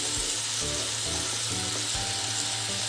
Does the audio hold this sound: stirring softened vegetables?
yes